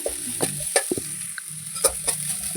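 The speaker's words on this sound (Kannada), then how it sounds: "ಎಣ್ಣೆಯಲ್ಲಿ ಇದನ್ನು ಸ್ವಲ್ಪ ಫ್ರೈ ಮಾಡೋದ್ರಿಂದ ಕೈ ಸ್ವಲ್ಪ ಕಮ್ಮಿ ಆಗುತ್ತೆ ಪೂರ್ತಿ ಮೆತ್ತಗಾಗೋವರೆಗೂ ಇದನ್ನು ಫ್ರೈ ಮಾಡ್ಕೋಬೇಕು" Bitter gourd pieces fry in oil in a pan, a close bright sizzle broken by several quick scrapes and knocks of a spoon over a couple of seconds.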